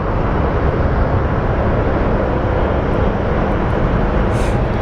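Steady, loud broadband roar of a Frontier Airlines airliner in Piping Plover livery lining up for departure at Phoenix Sky Harbor airport, a constant engine rumble filling the whole stretch with no voices.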